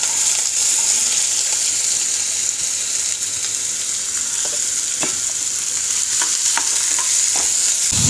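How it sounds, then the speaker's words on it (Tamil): Onions sautéing in oil in a kadai, a loud continuous frying hiss with a few scattered stirring clatters near the end, close up and without speech. "இப்போ கடாயில் எண்ணெய் ஊற்றிக்கலாம். இப்போ இந்த வெங்காயத்தை இதில் வதக்கிக்கலாம்."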